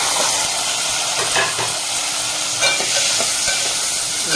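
Chopped vegetables and onion frying in a hot pan, a loud steady sizzle with occasional stirring scrapes throughout.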